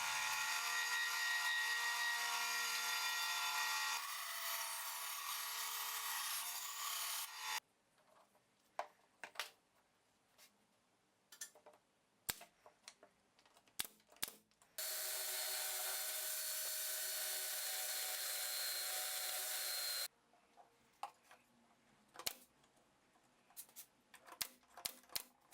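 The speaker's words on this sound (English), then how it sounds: "I cut one piece on the bandsaw and used it as a template for the other." Bandsaw slicing a curved piece of wood in a workshop, with two sustained bursts of loud cutting separated by quieter clicks, taps and handling knocks.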